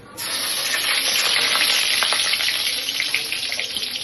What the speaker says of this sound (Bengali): আমি কালো জিরে সর্ষের তেলের ভিতরে দিয়ে দেবো